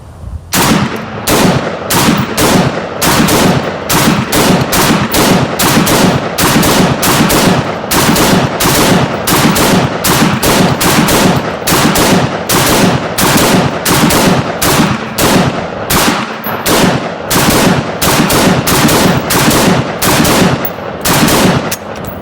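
Rapid automatic gunfire aimed at body armor, loud close shots in fast, steady bursts that barely pause over about twenty seconds, with no talking.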